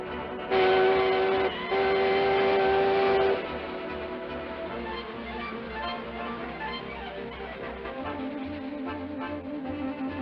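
A cartoon train carrying gold bullion sounds two loud whistle blasts, then chugs along the tracks in a steady rhythmic clatter that grows more pronounced toward the end.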